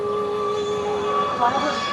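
A train rumbles past nearby with a loud, steady hum carrying sustained horn-like tones that swell briefly near the end.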